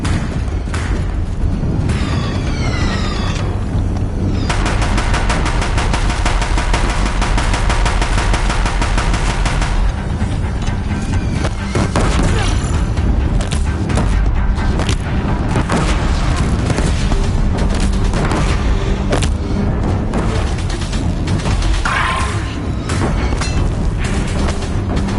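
Deathbringer war machines in the video game Horizon Zero Dawn pound a bridge with relentless heavy machine-gun fire and booming explosions, loud and continuous throughout with dense rattling bursts and no talk.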